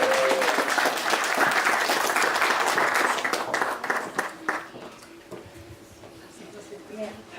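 Wedding guests break into loud, sustained applause and clapping that fades after a few seconds, followed by quieter room sound and a voice speaking.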